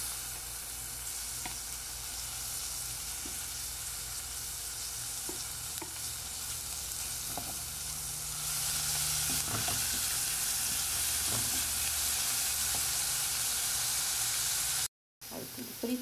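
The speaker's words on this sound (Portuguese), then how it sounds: "Vou fritar aqui primeiro a cebola e o alho" Chopped onion, garlic and grated carrot fry in a pan, giving a steady broadband sizzle with occasional stirring clicks throughout. The frying grows louder and denser about halfway through, and a brief dropout comes near the end.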